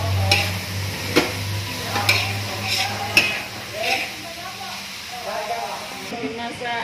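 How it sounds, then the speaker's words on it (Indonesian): Perkedel potato fritters fry at a warung food stall, giving a soft sizzle broken by light clinks and scrapes of a utensil against the pan while people talk nearby. "Goreng perkedel."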